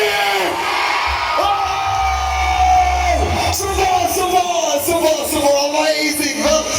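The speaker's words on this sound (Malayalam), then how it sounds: "മാക്സിമം ലൗഡായിട്ട് നിങ്ങൾക്ക് കൈയടിക്കാം, പൂക്കി വിളിക്കാം" A crowd at a night band show yells, whoops and cheers loudly and continuously, dense voices close and far blending into one roaring swell with rising shouts throughout.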